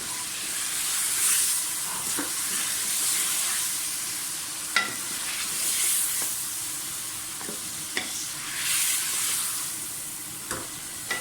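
Mutton sizzles and fries in a pot for a Peshawari namkeen gosht, a steady broad hiss with occasional sharp pops and stirring clatter, close and continuous with no talk.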